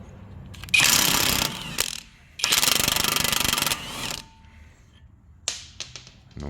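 Impact wrench with a 30 mm deep impact socket working a rusted CV shaft nut, firing in two loud, sustained hammering bursts of about a second and a half each, followed by faint clicks and small rattles close by.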